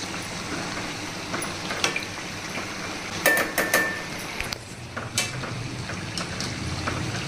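Puranalu, sweet stuffed dumplings, fry in hot oil with a steady bubbling sizzle, broken by a few sharper clinks and taps from a utensil against the pan. No voices are heard.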